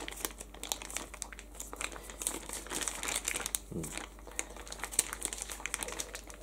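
A plastic zipper bag crinkles and crunches continuously as it is squeezed tight and sealed around pickled radish, close up with no talking.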